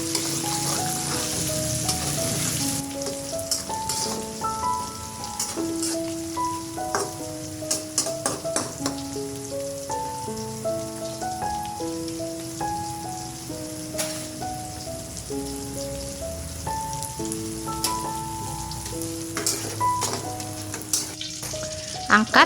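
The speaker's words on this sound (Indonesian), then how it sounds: "Panaskan minyak, kemudian goreng tahu sampai matang." Tofu frying in hot oil in a home kitchen, a dense steady sizzle and crackle running continuously at close range, with a melodic backing tune playing throughout.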